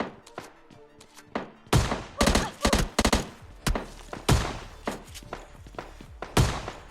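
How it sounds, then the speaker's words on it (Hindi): Footsteps in the mobile battle-royale game PUBG Lite, a run of loud, close thumping steps arriving in quick irregular bursts. "बंदे के नीचे की साइड फुटस्टेप आते हैं"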